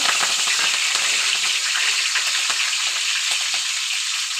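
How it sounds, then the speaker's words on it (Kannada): Curry leaves crackle in hot oil for a bean snack, a continuous close sizzle scattered with small pops, with no talking. "ಕರ್ಬೇವಿನ ಸೊಪ್ಪು ಈ ರೀತಿ ಹಾಕ್ಕೊಂಡು ಚೆನ್ನಾಗಿ ಫ್ರೈ ಮಾಡ್ಕೊಂಡು ತೆಗೆದಿಟ್ಕೊಬೇಕು"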